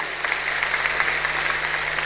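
Congregation claps during a church service, steady dense applause from a crowd in a hall with a faint low hum beneath, no voices over it.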